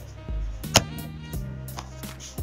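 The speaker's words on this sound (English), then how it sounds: "what you just heard there was the laptop actually closing all the way" A Samsung Notebook 9 Pro 2-in-1 laptop lid closing all the way gives a short series of sharp, close clicks and light thumps, one louder snap near the start, over a quiet room.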